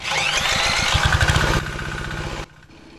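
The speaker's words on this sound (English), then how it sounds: "we're gonna fire the engine up and make some power." A 196cc diesel generator engine cranks and fires up nearby, chugging roughly before settling into a lower steady idle under light load; the sound then drops off sharply.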